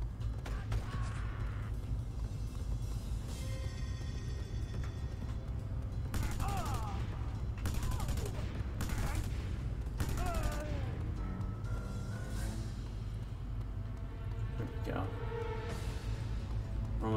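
Assault rifle fire in the action game Just Cause, several sharp automatic bursts cracking out over a constant low rumble and mechanical creaks, with a voice talking during the shooting.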